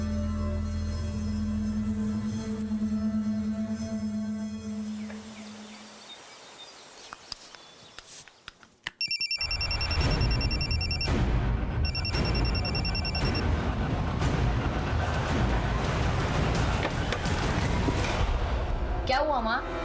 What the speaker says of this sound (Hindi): मुझे यहीं कहीं से मोबाइल की आवाज आई